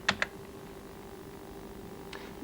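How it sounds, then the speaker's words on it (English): A few sharp keystrokes on a computer keyboard click in a quick pair, then a pause, then more clicks, all close and fairly quiet over a faint background hum. "I'll go onto that system by typing Go CB1"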